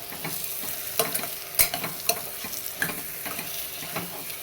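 Brinjal (eggplant) sautéing in oil for vangi bhaat, a close crackling sizzle broken by irregular scraping and clinking of a spoon stirring the pan, with no talking.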